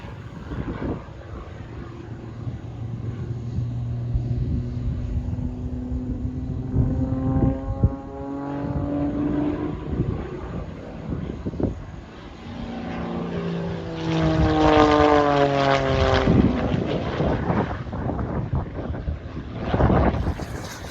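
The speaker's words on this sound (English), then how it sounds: "Here we are with a full-size Pitts biplane putting on a fully aerobatic display." A full-size Pitts biplane flying an aerobatic display at an airshow drones overhead, its propeller engine swelling and fading in pitch as it climbs and dives, heard through gusty wind noise.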